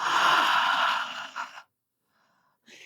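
A long, strong exhale through the mouth during a labour breathing technique fades into silence before the faint start of the next breath.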